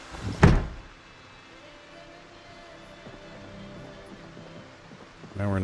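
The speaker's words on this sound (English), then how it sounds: "and then as soon as you close the window." A window being shut in a zombie survival video game set in Knox County, a sharp close thunk followed by a quieter low hum, then another soft knock at the end.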